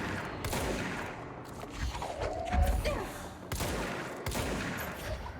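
Gunfire in the video game Control: several bursts of heavy shots and thuds mixed with other game effects, loud and close, with pauses between volleys; no one talks.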